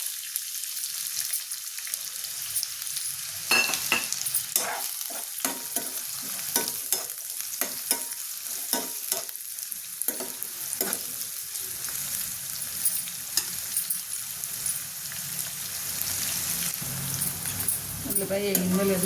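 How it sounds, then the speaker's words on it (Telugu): Sliced onions hitting hot oil for an Andhra-style gongura chicken liver curry, bursting into a loud, close sizzle that continues as a busy crackling fry with stirring scrapes throughout. "ఆయిల్ వేడైంది కదా, ఉల్లిపాయలు వేస్తున్నాను చూడండి."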